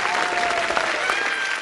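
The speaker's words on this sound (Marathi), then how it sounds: "जोरदार टाळ्या" A studio audience on a Marathi cinema quiz show claps loudly for a correct answer, a brief, dense burst of applause close to the microphone with a faint tone running beneath it.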